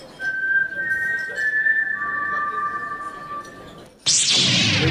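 A person whistles the short four-note mockingjay tune from The Hunger Games, clear and close, followed by a sudden burst of loud broadband noise.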